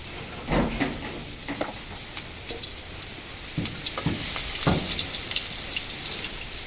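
Chopped onions fry in hot oil in a wok (kadai), giving a steady sizzle and crackle with a few sharper spits and pops that build slightly toward the end, with no talking.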